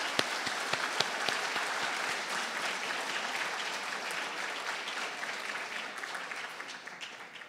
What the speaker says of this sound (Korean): 큰 소리로 큰 박수로 환영해 주시기 바랍니다.